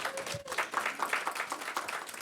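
A small team-meeting crowd claps in a steady, moderately quiet patter that holds evenly throughout, with no voices over it.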